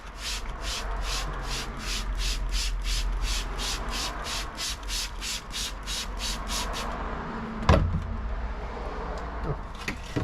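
A sponge scrubs carbon buildup inside a car's intake, making rapid, regular rubbing strokes, around seventeen close, gritty swishes, before the scrubbing stops and a single sharp knock follows amid quieter handling noise.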